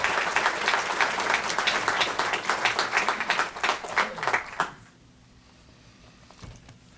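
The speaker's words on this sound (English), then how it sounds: "I'd like us all to give him a round of applause while he comes up to talk" A short burst of audience applause at a building dedication ceremony, individual claps distinct and fairly close, ending abruptly into near silence with a faint thud afterward.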